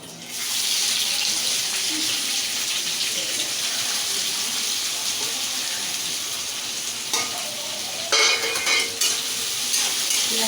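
Onion for a chicken recipe dropped into hot oil and frying in a pan, a loud sudden hiss that settles into steady sizzling, with a few stirring bursts near the end and no talk.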